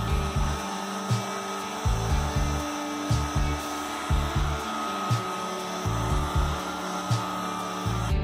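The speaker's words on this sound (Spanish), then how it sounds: "Secamos un poquito con secador de cabello." A hair dryer blows steadily up close over a wooden board coated in vinyl glue, its whine and airflow rising and dipping rhythmically as it is swept back and forth.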